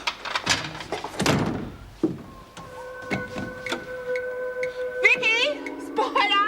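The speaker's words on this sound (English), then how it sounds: "The door's stuck." An old door stuck shut in a prison cell block is banged and rattled in a few heavy thumps at the start, followed by quieter knocks, while a sustained musical tone rises over the second half.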